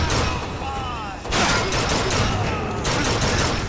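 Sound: gunshots in the video game BioShock Infinite

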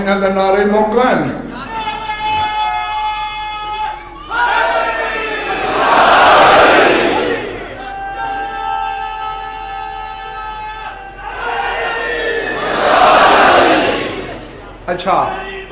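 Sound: crowd chanting religious slogans

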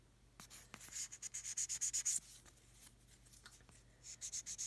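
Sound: sanding plastic model kit half flat

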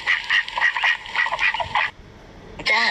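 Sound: duck quacking

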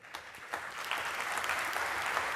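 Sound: audience applause at a talk

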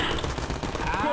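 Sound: gunfire from a gun in Garry's Mod DarkRP video game

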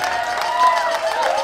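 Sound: wedding guests applauding

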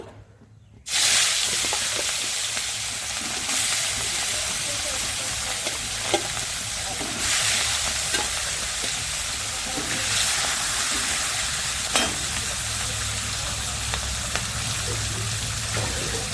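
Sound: katla fish frying in hot oil in wok

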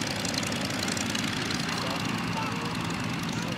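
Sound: Sopwith Pup biplane engine

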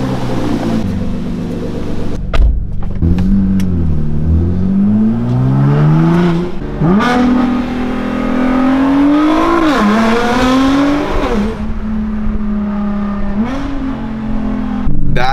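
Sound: loud sports car engine revving and accelerating

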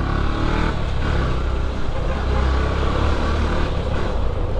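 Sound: motorcycle engine revving

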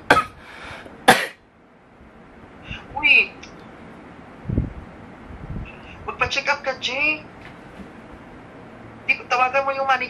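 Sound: coughing

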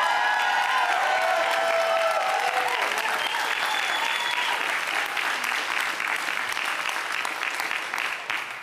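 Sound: applause

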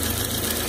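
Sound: vintage Merrow serger running and cutting off scrap

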